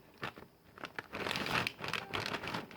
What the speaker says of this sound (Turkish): Ondan sonra anakartımızı poşetinden çıkarıyoruz bir saniye.